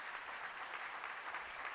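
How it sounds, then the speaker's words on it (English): Steady audience applause at a Rising Star Summit 2017 panel event, an even wash of clapping from many hands that is fairly faint and distant throughout, with no voices over it. "Give him a round of applause."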